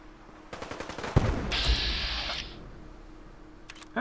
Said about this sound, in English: He's shooting at somebody.